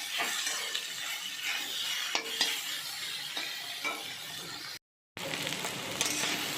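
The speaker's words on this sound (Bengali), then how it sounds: "এবারে কেটে রাখা পেঁয়াজগুলো আমি দিয়ে দিচ্ছি ভালো করে কিন্তু নাড়াচাড়া একটু করে নিচ্ছি" Freshly chopped onions hit hot oil in a pan and get stirred, giving a continuous close sizzle with repeated scraping spoon strokes and light clinks, briefly cut to silence midway, with no voices.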